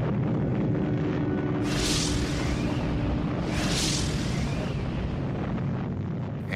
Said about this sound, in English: the real explosion.